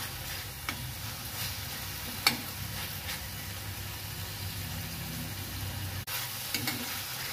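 Prawns sauté in a pan with a soft, constant hiss. Occasional light clicks and scrapes come from stirring, and a single sharp knock sounds near the end. The whole clip is fairly faint and has no talking.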